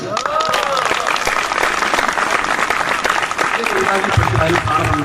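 An audience at a patriotic poetry recital breaks into sustained, dense applause that fills the whole stretch, while the poet's voice carries on over the clapping.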